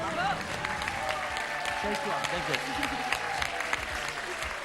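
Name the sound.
TV game show studio audience applause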